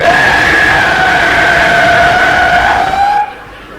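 A voice imitates an automobile skidding sideways between intersections, producing a loud sustained whistling screech with a bending pitch that holds for about three seconds and then cuts off abruptly.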